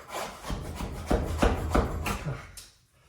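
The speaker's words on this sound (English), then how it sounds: "Now I take a scraper, go back and get out all the builder's caulk." A scraper works builder's caulk out of a wooden door frame, giving a series of short, close scraping and rubbing strokes in an uneven rhythm that fade out at the end.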